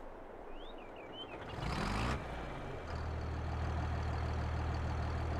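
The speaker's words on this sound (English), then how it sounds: "give a quick listen to the engine" A John Deere 4455T tractor engine in Farming Simulator settles into a low, steady idle after a short hiss, rumbling evenly and close with no voices.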